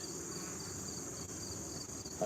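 Honeybee colony opened during an apiary inspection, a soft continuous high buzz of many bees, steady and fairly faint.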